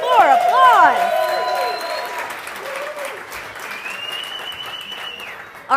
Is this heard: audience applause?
yes